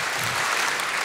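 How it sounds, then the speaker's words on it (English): An audience at a live event claps together, giving a dense, loud burst of applause that fills the whole moment. "shall we do three laser claps for them?"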